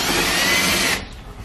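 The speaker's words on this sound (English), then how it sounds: "we'll drill it in and then reattach the weather stripping" A power drill drives into the entry door bar of a skoolie, whining loudly and steadily for about a second before spinning down.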